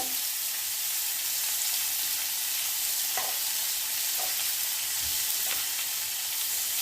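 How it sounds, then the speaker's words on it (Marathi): Onions frying in a pan give a steady, close hiss and sizzle, with a few faint stirring clicks scattered through it. "कांदा लाल होऊ द्यायचा आहे आता आपण चांगला भाजून घ्यायचं"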